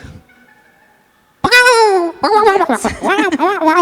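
People imitate chicken noises after a brief quiet stretch, with loud clucking and squawking voices overlapping one another in quick bursts.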